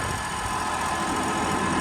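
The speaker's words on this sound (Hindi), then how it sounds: "आप देख सकते हैं दूसरे के लो में ट्रैक्टर चल रहा है।" A New Holland 5620 CRDI tractor engine runs in second low gear, a steady, dense mechanical drone with low rumble and constant broadband noise, close and loud throughout with no voices.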